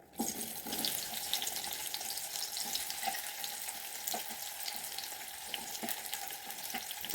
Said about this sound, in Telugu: ఆవాలు వేయకుండా డైరెక్ట్గా ఆనియన్సే ఫ్రై చేస్తున్నాం